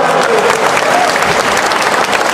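Steady, loud applause from an indoor crowd at a community gathering in East Kalimantan, as guests are asked to stand, with dense clapping sustained throughout and no speech over it.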